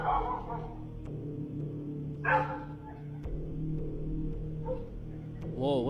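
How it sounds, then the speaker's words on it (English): Dogs on a security camera recording barking and whimpering, with short yips and a rising howl near the end, set against a constant low hum. "You can see the dogs barking"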